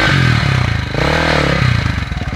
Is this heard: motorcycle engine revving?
yes